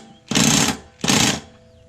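An impact wrench drives the bolt on a lawn mower blade in two short, loud bursts of rapid hammering, each under a second long, separated by a brief pause.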